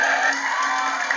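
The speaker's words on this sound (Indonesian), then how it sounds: "Tepuk tangannya sekali lagi." A loud, sustained wash of crowd noise, an audience at a school quiz competition clapping and cheering together without a break.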